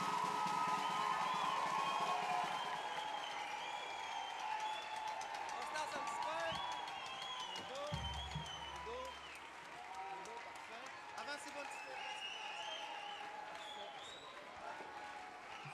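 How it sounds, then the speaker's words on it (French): An audience at a concert applauds young student musicians in a large hall, with sustained distant clapping and cheering under loud crowd noise and some talk. "Applaudissez-les, c'est pour eux que vous êtes ici ce soir."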